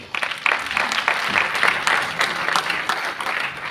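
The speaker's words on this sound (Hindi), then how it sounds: "तो एक बार नरेंद्र जी के लिए भी जोरदार तालियां" Audience applause at a live presentation, a lively burst of many hands clapping that swells and holds near and loud for several seconds.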